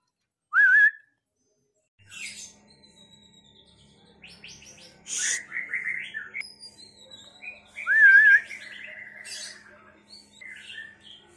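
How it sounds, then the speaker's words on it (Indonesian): A white-rumped shama sings alone in varied phrases of clear whistles, squawky notes and rapid chirps, separated by short pauses against a quiet background. "murai batu ini berasal dari lokalan Tulungagung menggunakan ring atas nama Divan"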